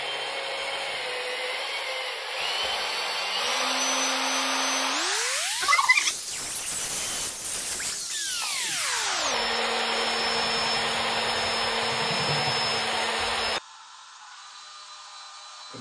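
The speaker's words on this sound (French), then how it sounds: "je mélange tranquillement ma petite peinture" Wall paint being stirred with a drill-driven mixer during a room renovation, a steady close whine that rises in pitch, holds, then winds back down before stopping.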